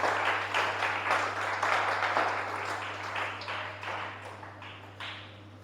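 A congregation at a thanksgiving church service breaks into loud applause, dense overlapping claps that gradually fade over several seconds above a constant electrical hum.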